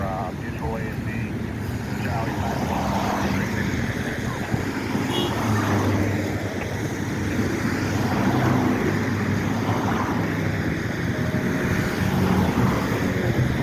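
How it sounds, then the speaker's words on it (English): Steady roar of traffic passing on both sides at a busy intersection in Mattapan Square during rush hour, a continuous wash of engine and tyre noise with wind buffeting the microphone. "See all the traffic on both sides."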